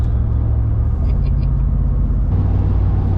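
A Ram pickup truck drives by with a steady, loud engine rumble that shifts pitch as it passes close.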